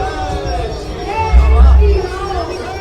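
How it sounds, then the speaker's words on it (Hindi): A growing crowd of visitors at a Luv Kush Ramleela fair makes a steady, close hubbub of mixed voices and chatter, with someone talking over the noise. "तो देखिए भीड़ बढ़ती जा रही है लोगों की"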